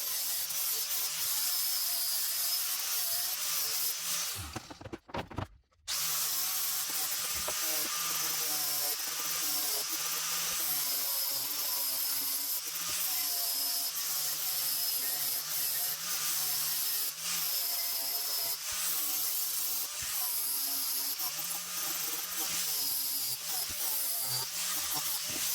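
A power tool grinds steadily against a steel cat's paw pry bar with a worn abrasive disc, a continuous rough whir running nearly the whole time with one brief pause and restart.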